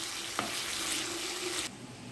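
Chicken pieces sizzle steadily in a pan for pizza topping, with a single clink of stirring near the start; the broad hiss cuts to a quieter level near the end.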